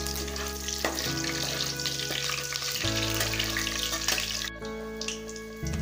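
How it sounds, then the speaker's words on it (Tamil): Curry leaves and green chillies fry in oil in a pan, a close, steady sizzle over a low humming background, with a few clinks and a sudden drop in level near the end. "கருவேப்பிலை போட்டுக்கலாம். பச்சை மிளகாய் கொஞ்சம் ஃப்ரை ஆகட்டும்."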